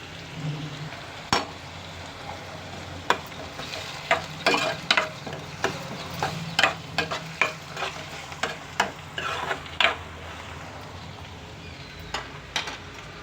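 Onions frying in a pan for a Telugu coriander-seed tamarind stew, a steady sizzle broken by repeated sharp scrapes and knocks of a spatula stirring, close and fairly quiet.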